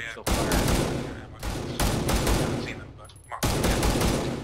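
Heavy rifle gunfire in the military shooter game ArmA 3, loud sustained bursts of shots with brief gaps between volleys, close and dominant, with a few spoken words mixed in.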